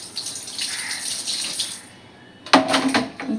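Tap water mixed with Dettol poured over an animal cooling off in summer heat: a steady hiss of running water for about two seconds, a brief quieter lull, then louder, closer splashing gushes to the end, with no talk.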